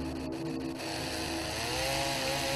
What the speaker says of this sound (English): Is that where the chainsaw sound is coming from?